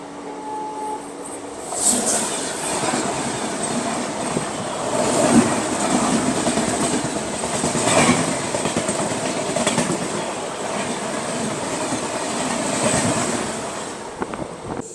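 The Lucknow Chennai Express runs on rails with a steady, loud rolling rumble and rhythmic clickety-clack of wheels over joints, heard from inside the moving train without any talk.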